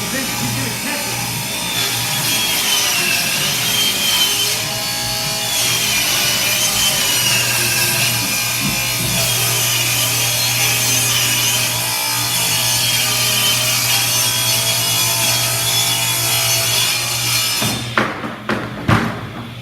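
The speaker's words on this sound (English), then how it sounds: "So that's how you cut a piece of plywood on the table saw." A table saw cuts through a sheet of plywood, a loud, steady blade whine with a droning motor tone running for most of the span, then winding down near the end, with some voices faintly underneath.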